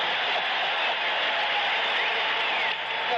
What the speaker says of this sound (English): Coming down, the crowd roars.